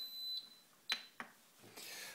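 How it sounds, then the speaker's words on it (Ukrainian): Beeping from the control board of a Bauknecht refrigerator under repair, which starts only intermittently: a faint tone, then two short sharp beeps in a quiet room, followed by a brief hiss. "І знову пищить."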